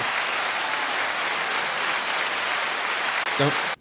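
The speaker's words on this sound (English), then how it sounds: "Where's my round of applause?" Steady applause from a crowd, dense clapping filling the space for a few seconds before cutting off abruptly.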